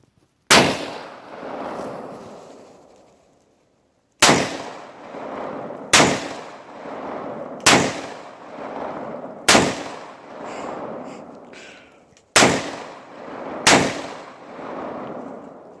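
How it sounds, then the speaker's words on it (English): Handgun firing at a range: seven loud, close single shots spaced one to three seconds apart, each a sharp crack with a ringing tail, the first followed by a long pause and the last two closer together. "we're actually going to shoot this weapon and see what we can do"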